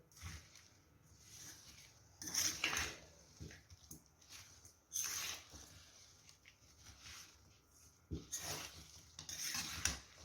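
Green chillies for pickle are stirred into oil, heard as quiet intermittent wet scraping and mixing bursts with occasional utensil clinks between softer pauses, with no talking.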